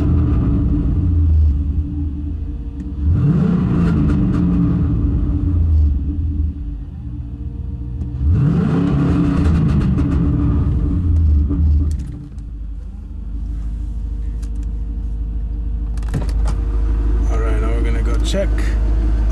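A 2001 Camaro with an LS1 V8 revs twice, each blip rising and falling in a deep rumble, then settles into a loud idle with a sharper burst near the end; a voice talks over it.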